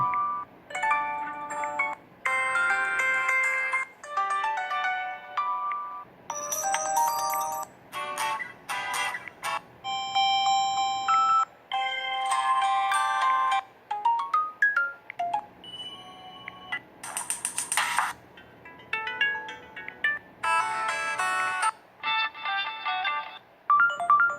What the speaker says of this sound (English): You're gonna change your ringtone.